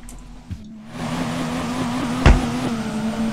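A 2JZ-swapped BMW E46 drifts through a corner in the DRIFT21 simulator, its engine holding a steady loud drone after a brief lull, with a sharp thump midway.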